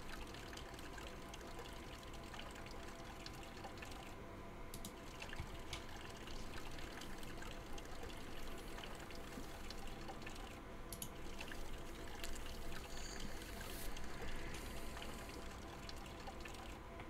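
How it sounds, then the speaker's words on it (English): Water pours steadily into pet shop tanks in Exotica Petshop Simulator, a faint, continuous trickling wash without pauses or talk. "we gotta start by filling them with water,"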